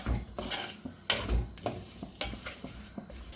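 Masala for a rohu fish curry with thick gravy sautéing in a pan, with a soft steady sizzle broken by repeated scraping stirs and light clinks of a spoon against the pan, close and moderately quiet.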